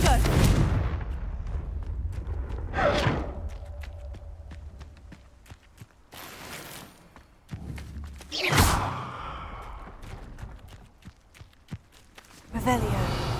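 Confringo spell cast in Hogwarts Legacy: two sharp explosive blasts, one near the start and a louder, longer one later, with softer thuds and rustling between them.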